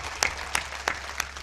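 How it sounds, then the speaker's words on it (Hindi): Sharp claps of audience applause at an Urdu mushaira and kavi sammelan poetry recital in Mehmoodabad, coming as four distinct, evenly spaced bursts at moderate level with no voices over them. "एक बार जोरदार तालियां बजा दीजिए"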